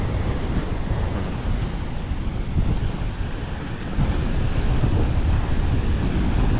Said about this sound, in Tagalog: Ay, bagyong Bising. Ang lakas ang hangin.